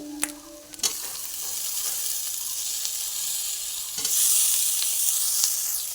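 Spice masala with tomato, chilli powder and sugar frying in a pan for a jackfruit and prawn curry, a steady close sizzle with a few clinks of stirring and a louder hiss swelling near the end.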